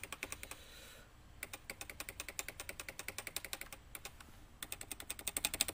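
Rapid, light typing on a Cooler Master CM Storm NovaTouch TKL Topre keyboard in bursts with brief pauses, the keystrokes crisp and close, soft muted thocks rather than clicks, no voices.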